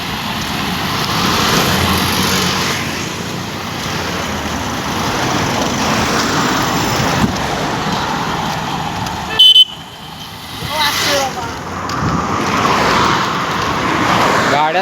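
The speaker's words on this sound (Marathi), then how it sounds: "गाड्यांचा थरथराट तर असा आहे" Busy Indian road traffic with passing rickshaws and cars: a continuous loud engine and road rumble, broken by a short honk and a brief sharp clatter partway through, with no speech.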